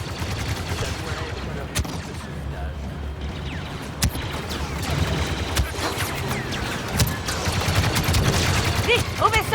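Blaster gunfire in the Star Wars Battlefront II video game, rapid overlapping shots and bursts over a busy battle din, with voices speaking in French over the shooting.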